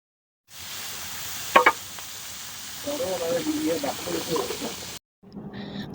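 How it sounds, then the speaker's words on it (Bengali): Hilsa fish fry in mustard oil at a riverside ghat at Mawa, giving a steady, close sizzle with occasional sharp crackles, while voices murmur in the background. "আমাদের কিনে দেওয়া সরিষার তেল দিয়ে কিন্তু মাছ ভেজে দিচ্ছে মাওঘাটে"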